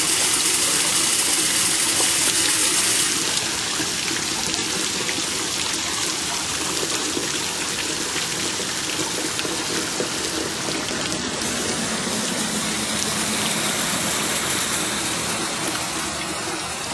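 Water pouring steadily in a garden water feature with a troll statue, a loud continuous gush and splash that stays constant throughout with no voices.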